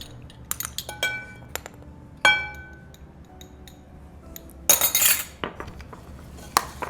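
A spoon stirs cinnamon and dried fruit in a bowl for a make-ahead breakfast, making scattered light clinks and scrapes, a few sharper knocks, over a quiet background.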